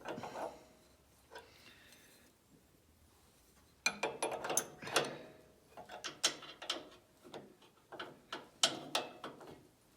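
A mechanical puller is screwed down to draw out a shaft and bearings, producing sharp, close ratcheting clicks and metallic creaks in irregular bursts after a quieter start.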